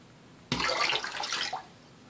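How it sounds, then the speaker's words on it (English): Water tipped out of a shaving mug bowl after wet shaving lather prep, a single close splashing pour lasting about a second, then quiet. "I'm going to empty out my mug bowl"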